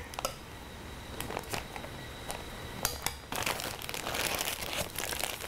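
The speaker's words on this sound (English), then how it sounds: "Put the filling in the bag." Crinkling plastic rustles up close, with sporadic crackles growing into a busier, denser crumpling as a gallon-size freezer bag is handled and filled with manicotti filling.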